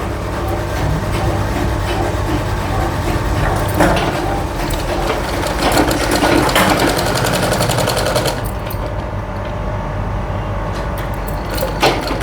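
A sewing machine stitches fabric along a folded edge at home, its rapid motor and needle clatter running loud and close in a steady stream with brief slowdowns and a short pause near the end.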